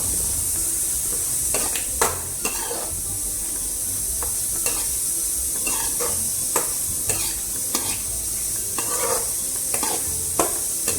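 Crushed ginger, green chilli and garlic sautéing in a hot pan, a steady bright sizzle running throughout while a spoon stirs with intermittent scraping taps, no voices.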